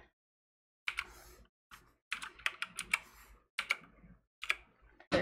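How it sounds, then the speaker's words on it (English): Keys clack on a computer keyboard as a code is typed, quick clustered taps in short bursts separated by brief pauses, close and fairly quiet. "So I type in my code and click register."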